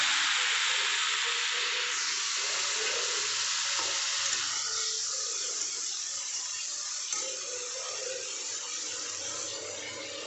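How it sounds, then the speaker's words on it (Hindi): Green chilies and tomatoes frying in a pan for a masala bhindi dish, a steady close sizzle with wet crackle running throughout, no voices. "देखिए हरी मिर्च हमारी भून गई है, अब हम इसमें टमाटर डालेंगे।"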